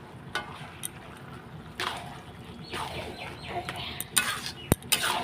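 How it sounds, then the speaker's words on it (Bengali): Peas for ghugni are stirred in a pan with a metal spoon, producing scattered scrapes, clinks and clatters at close range. A sharper knock stands out near the end, with a faint sizzle underneath throughout. "এবার মটর দেওয়ার পরে একটু কষিয়ে নিই"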